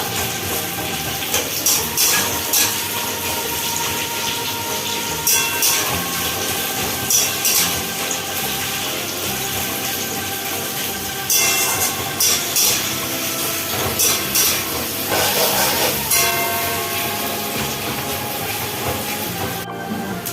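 Onion and green chilli frying in hot oil in a pan for mixed chow mein noodles, giving a continuous sizzling hiss with scattered crackles and pops, steady throughout and with no talking.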